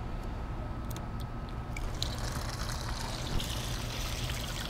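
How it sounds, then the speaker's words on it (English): Water trickles steadily from the faucet of a 550-gallon rainwater harvesting tank after a rainstorm, a soft continuous pour and splash heard close and alone throughout. "now it's time to test out the faucet"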